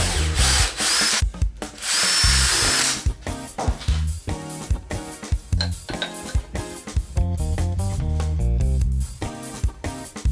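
Power drill boring through a stack of three wooden crate pieces at once, loud whirring bursts with grinding bite into the wood, stopping and restarting several times.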